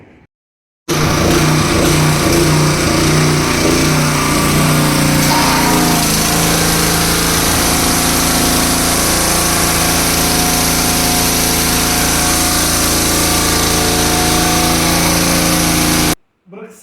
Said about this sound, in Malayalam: എഞ്ചിൻ വെച്ചിട്ടുള്ള ഒരു കാർ വാഷാണ് നമ്മൾ ഇത് കണ്ടത്